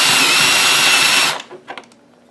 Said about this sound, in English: I definitely drilled through that platter there